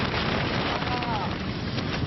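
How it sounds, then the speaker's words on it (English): Strong Arctic wind gusts against tents, a dense, continuous roaring buffet that stays loud and close throughout with no pauses. "The winds have suddenly got up, they're gusting so fast that I'm being pushed over."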